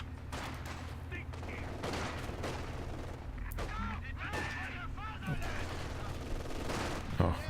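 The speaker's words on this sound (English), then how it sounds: "getting very aggressive with the machine gun here" Machine gun fire in a Company of Heroes 2 match, heard as faint repeated bursts and distant battle rumble with occasional louder cracks, mixed with other battlefield effects and sitting under the game audio.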